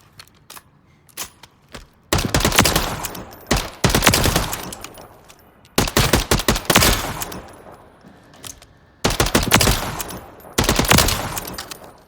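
Bursts of G36C rifle fire in a Call of Duty Modern Warfare III firing range, several sustained automatic volleys separated by short pauses and a few single clicks, loud and close.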